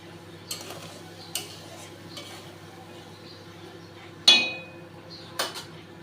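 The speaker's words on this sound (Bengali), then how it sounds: "লো ফ্লেমে এবার কষাতে থাকবো" Curry with sour yogurt being sautéed in a pan on low flame for a paneer dish: a soft background hum broken by a handful of separate spoon scrapes and clinks, one sharper knock near the end, close and sparse.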